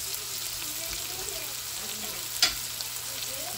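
Pork igado, an Ilocano dish, sizzles steadily in a pan as it is stirred, with one brief louder scrape of the spoon partway through and no voices.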